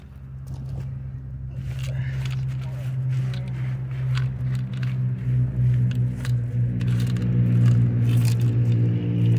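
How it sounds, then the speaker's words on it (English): Hand brushing 3/4 inch crushed gravel ballast level along a backyard 1/8th scale railroad, giving close, irregular scraping and crunching rustles that build slightly louder over a low steady hum. "coming back through and brushing it with my hand just to get it level"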